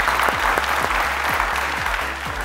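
Studio audience applauding on a Persian-language Family Feud game show, a steady loud wash of clapping that holds evenly for a few seconds.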